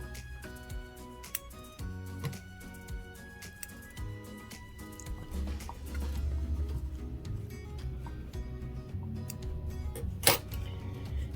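A sewing machine stitches and backstitches fabric while sewing an overall top, giving quiet mechanical whirring runs broken by clicks and short pauses, close and soft.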